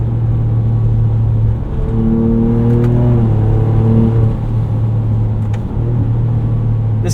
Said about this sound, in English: how this 3-liter EcoBoost V6 sounded on the internet after listening to some videos, but in person, it just sounds fantastic